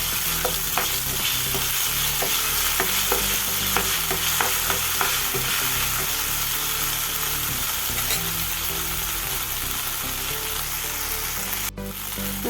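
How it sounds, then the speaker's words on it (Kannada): Ginger garlic paste frying in a pan gives a continuous loud sizzle, with repeated scraping strokes of a stirring utensil through the first half and a sharp clack near the end, and no talking. "ಇದನ್ನು ಸ್ವಲ್ಪ ಫ್ರೈ ಮಾಡ್ಕೊಳ್ಳೋಣ."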